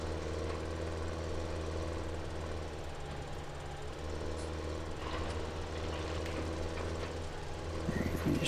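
In the Farming Simulator 17 video game, a tractor drives around the Goldcrest Valley map with a quiet, steady, humming engine drone that carries on without a break.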